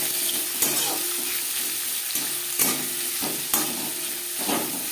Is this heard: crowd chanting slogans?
no